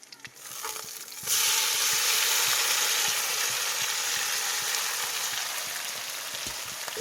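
Bata fish sizzles in a wok with browned onions: a loud, dense frying hiss rises sharply after a quiet start and holds steady, close up and alone, with faint crackles throughout.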